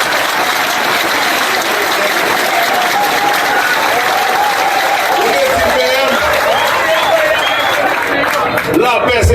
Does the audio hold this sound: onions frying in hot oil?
no